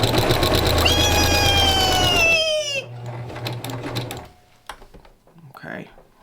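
A sewing machine stitching a quilted accent pillow whirs steadily with a rising, gliding motor pitch for about two and a half seconds, then stops, leaving quieter handling clicks and rustles.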